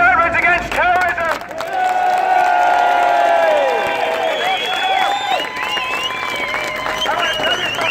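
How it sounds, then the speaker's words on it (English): A crowd at a veterans march in London claps and cheers loudly, with whoops and shouting voices layered over continuous applause throughout. "Let's have a round of applause for the Veterans Against Terrorism."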